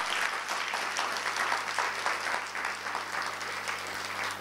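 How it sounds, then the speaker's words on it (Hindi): Audience clapping at a spiritual class held in a large assembly hall, a sustained, even wash of many hands applauding with no voices over it. "तालियां थोड़ी ठंडी ठंडी बजा रहे हैं आप"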